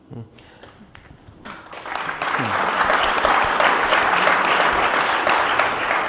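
A crowd at a panel on Arab women, gender equality and political participation breaks into loud applause after a short stretch of voices and a few claps, swelling into a dense, sustained roar of clapping.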